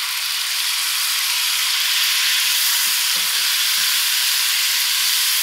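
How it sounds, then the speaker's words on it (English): Tomatoes dropped into a curry pot of frying potatoes set off a steady, loud sizzle, with a few soft stirring knocks and scrapes midway through; nobody speaks. "So this I'm going to add in my tomatoes."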